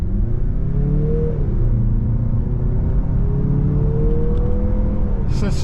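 A 2023 Mazda CX-50 2.5T turbo SUV with a six-speed automatic accelerates from a slow roll, engine note climbing and dropping at a gear shift, then climbing again over steady road rumble, with a brief clatter at the end.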